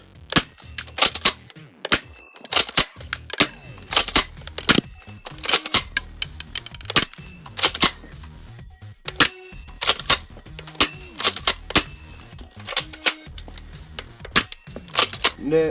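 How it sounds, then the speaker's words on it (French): An airsoft shotgun firing around 400 FPS blasts a tablet from close range, producing a long series of sharp, loud cracks and impacts in irregular clusters, with occasional faint voice between shots. "on va y aller avec le shotgun, mais je vais le mettre collé dessus"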